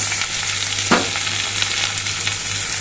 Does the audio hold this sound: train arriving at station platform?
no